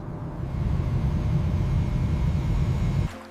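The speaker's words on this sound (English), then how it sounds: "This is an airplane." A steady, broad engine roar drones for about three seconds, like an aircraft in flight, then cuts off abruptly.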